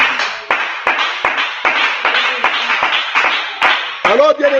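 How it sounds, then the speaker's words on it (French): A church congregation clapping to praise God during a French-language sermon: loud, close, rhythmic handclaps in a steady beat, with a voice joining near the end. "Quelqu'un peut applaudir le Seigneur."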